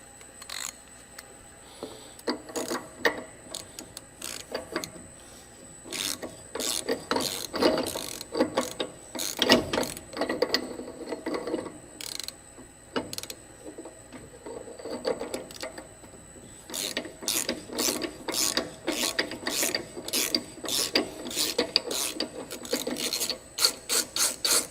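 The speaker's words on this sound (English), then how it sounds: "So let me get those spindle nuts off and see what happens." A ratchet wrench works truck spindle nuts loose, with bursts of rapid clicking separated by pauses, gear-like rasping and scattered metal handling sounds, close up with no talking.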